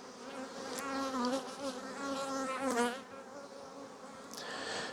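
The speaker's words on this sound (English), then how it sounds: "this bee that's flying around my head is going to sting me yet" A bee buzzes close around someone's head, its droning hum rising and falling in pitch as it circles near and moves off, with no talk over it.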